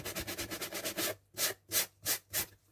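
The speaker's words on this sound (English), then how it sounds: "get a block of sandpaper and just smooth that off a little bit" A sandpaper block rubbed along the rough edge of a hardcover book board, close and loud, with rapid short strokes at first and then slower, longer sweeping rasps.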